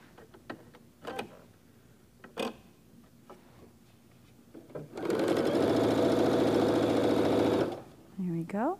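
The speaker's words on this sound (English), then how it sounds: "We can sew these 2 rows." A sewing machine stitches two rows of a churn dash quilt block together, running in one steady loud burst of a few seconds after a stretch of quiet handling noises, with brief talk at the end.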